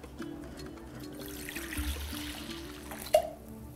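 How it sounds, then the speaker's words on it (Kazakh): Milk pours gently into a bowl for baursak dough, a quiet trickling stream lasting several seconds with a small clink near the end. "сүттің жартысын құйып аламыз"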